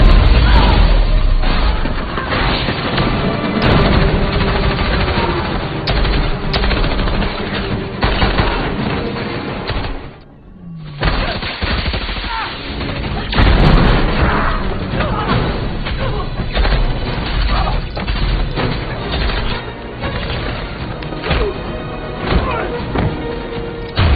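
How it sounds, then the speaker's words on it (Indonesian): Gunfire and explosions in an action film about a team of female agents, with dense shots and blasts running loudly through the scene, a brief lull near the middle, under a soundtrack and voices. "Nick muncul dan menembak Mary"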